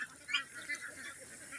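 Domestic ducks kept for rearing give a few soft, short quacking calls near feeding time, moderately near and fairly faint over a low background hiss.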